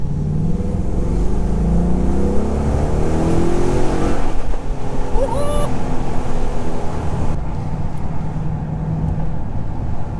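A 2018 Ford Mustang 5.0 V8 Shadow Edition pulls hard with a loud, deep, steady engine roar from inside the car. The note climbs briefly midway, then settles into a lower drone.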